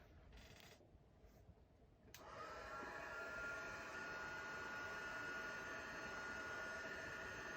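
A heat tool blasts steady air to dry a watercolor card, starting softly and rising to a constant, loud whooshing roar after about two seconds that holds to the end.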